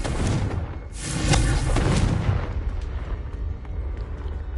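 A Confringo spell explosion in Hogwarts Legacy bursts loudly with a deep, rumbling boom that swells and then slowly decays, with scattered crackles trailing off.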